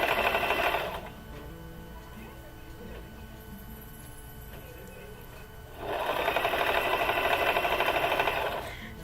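Sewing machine stitching the slits of a child's designer kurti, running in two steady bursts at the start and end with a quiet pause between, fairly close and clear with no talk.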